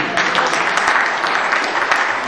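Audience applause at a poem performance, a dense steady wash of many hands clapping close and loud, filling the whole stretch without pause.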